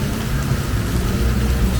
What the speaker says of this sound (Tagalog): Dahil ang lakas ng ulan dito.